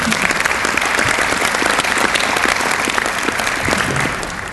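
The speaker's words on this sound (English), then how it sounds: "let's give them a round of applause" Audience applause at a small business panel event, steady sustained clapping from a full room that fades slightly at the end.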